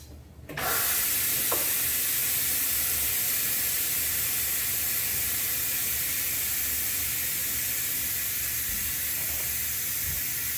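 After a brief quiet start, steam hisses loudly and continuously out of a pressure cooker's release valve after cooking turkey, a steady broad roar that holds for about ten seconds without talk.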